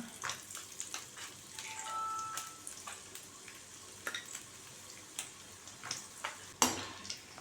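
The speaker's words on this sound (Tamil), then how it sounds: "நமக்கு எவ்வளோ சுண்டை வத்தல் தேவையோ அதை இதில் எண்ணெயில் போட்டு நல்லா வறுத்து குழம்புல ஊற்றிட வேண்டியதான்" Dried turkey berries (sundakkai vathal) fry in hot oil in a pan, giving a steady soft sizzle broken by scattered crackles and pops, with a few stirring scrapes and one sharper clatter near the end.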